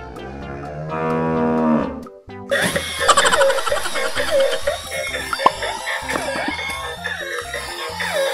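A single drawn-out cow moo from a toy cow, followed by busy mechanical whirring and clattering sounds.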